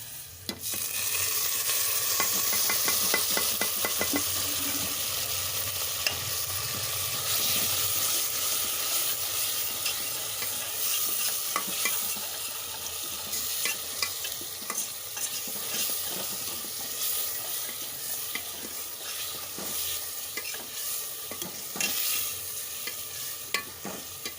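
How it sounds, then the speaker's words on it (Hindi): Onion with ginger garlic paste frying and being stirred in a pan, a steady close sizzle with frequent scraping clicks of the spoon throughout, no talk. "इसे हम अच्छी तरह से भून लेंगे ताकि इसमें जो अदरक या और लहसुन है इसकी जो स्मेल है वो ख़त्म हो जाए"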